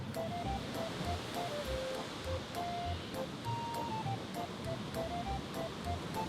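Waterfall of the Rivière Noire at Roxton Falls is a faint, steady distant rush, nearly masked by chirping birdsong and soft rustling.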